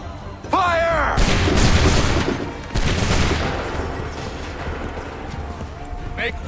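Loud musket volley gunfire in Assassin's Creed 3, with a burst of shots and a long rumbling roll, set amid battlefield noise and shouted commands.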